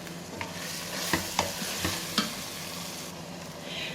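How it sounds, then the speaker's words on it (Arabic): Meat, garlic and onion sautéing in a pan in an Egyptian okra-with-meat dish, a steady sizzle broken by several sharp scraping stirs of a spoon, close and moderately loud with no talk. "خلاص انا مشوحه اللحمه مع الثوم مع البصل"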